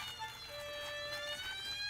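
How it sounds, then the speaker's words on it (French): A toy fire truck siren in a cartoon, a faint wailing tone rising and falling over a couple of seconds, heard under background music. "Caillou s'amusait avec son camion de pompiers."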